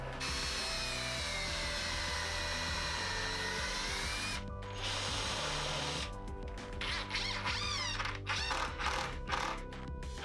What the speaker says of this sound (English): I'm gonna put a couple screws in each side from the top